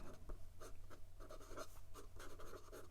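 A 1932 Waterman black hard rubber fountain pen with a flexible vintage gold nib scratches faintly across paper in short, rhythmic strokes, a quiet, close, dry scraping repeated about a dozen times.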